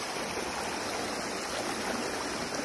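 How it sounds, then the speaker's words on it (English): Rainwater after a night of heavy rain streams down from a mountain as a steady, loud, broadband rush of flowing water, continuous and close, with no voices over it. "A lot of water coming from the mountain."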